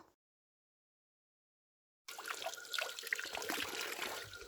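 Water from a carved stone spout in Khotang, Nepal, pouring and trickling steadily and close by, starting abruptly after two seconds of silence.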